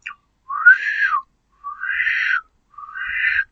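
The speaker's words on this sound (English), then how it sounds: "I clicked the record button and then I whistled into it" Three rising human-whistled notes, each about a second long, separated by short pauses, clear and close with no other sounds.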